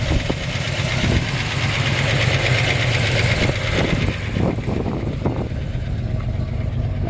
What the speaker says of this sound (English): Love the sound of this exhaust.